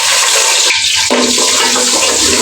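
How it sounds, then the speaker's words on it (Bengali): Whole spices (bay leaf, cardamom, cinnamon, cloves and black pepper) drop into hot oil for a Bengali chicken pulao, giving a loud, steady hiss and rush that breaks briefly, then resumes with a spitting sizzle, no talking. "এখানে তেজপাতা, এলাচ, দারচিনি, লবঙ্গ, গোলমরিচ এগুলো এখন গরম তেলটার উপরে দিয়ে দিব।"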